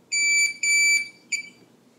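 A Minelab Pro-Find 40 metal detecting pinpointer sounds a high, clean electronic alert on a target, with two long beeps and a shorter third beep, clear and close against near silence.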